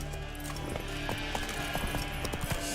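Horse galloping in the video game The Witcher 3, rapid rhythmic hoofbeats repeating throughout over a steady background of game ambience.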